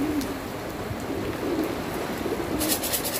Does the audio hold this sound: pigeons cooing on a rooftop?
yes